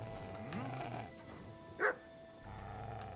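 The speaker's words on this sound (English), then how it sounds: "Be quiet. You're barking for no reason." A dog barks once in the video game Kingdom Come: Deliverance II, a single sharp bark standing out mid-clip over a low, steady game ambience.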